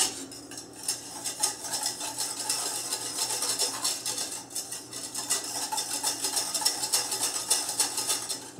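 Hot cream is stirred into white chocolate in a bowl for a pastry mousse, with continuous rhythmic scraping and clinking strokes of a utensil against the bowl. The sound is close and busy, with no talk.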